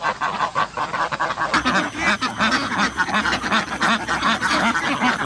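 A flock of ducks quacks and honks continuously and loudly in flooded rice fields, many overlapping calls close by, with no talk.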